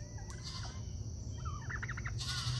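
Black Spanish turkeys gobbling in a backyard flock, a couple of rapid warbling gobbles rising over steady outdoor background noise, fairly close but not loud.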